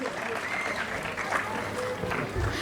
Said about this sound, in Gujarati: તો એ લોકો માટે એકવાર જોરદાર તાળીઓ થઈ જાય.